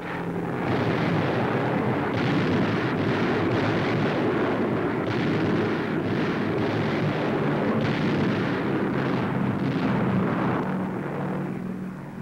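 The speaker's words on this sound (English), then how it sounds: "low-flying B-25s unload tons of delayed action bombs" Delayed-action bombs dropped by low-flying B-25 bombers explode over Japanese positions during the Second World War, a continuous loud rumbling barrage of blasts with no talk over it.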